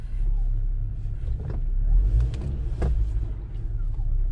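A 2019 Jeep Wrangler Unlimited with the 2.0 turbo engine and four-wheel drive pulls away, a steady deep engine rumble heard from inside the cabin that rises slightly, loud and continuous, with faint voices underneath.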